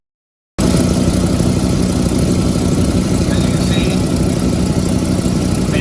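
1997 Dodge Ram 2500 V10 engine idling after valve cover gasket replacement: starts abruptly from silence into a loud, steady, even rumble that holds close and constant to the end.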